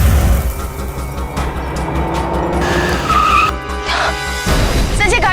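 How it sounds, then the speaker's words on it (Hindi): A car brakes hard with squealing, skidding tires and a loud, rough engine and road rumble, in a tense dramatized road scene, continuous and close for several seconds. "पता नहीं, इंजन बंद हो गया शायद।"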